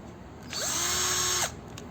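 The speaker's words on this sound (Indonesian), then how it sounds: "Sekarang kita coba pakai cordless drill." A cordless drill spins a telescopic extension screwdriver bit at high speed for about a second, its whine rising as it spins up and falling as it stops, heard close and alone over faint background noise.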